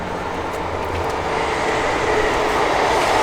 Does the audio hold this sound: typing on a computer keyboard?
no